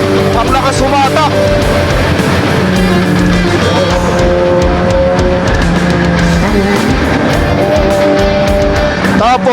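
Opel Zafira with an ECU reflash upgrade accelerating hard, its engine roaring loud and close throughout with rising revs, while excited voices shout over it.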